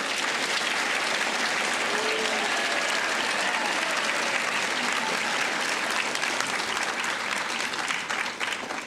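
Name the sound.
audience applause for teachers at awards ceremony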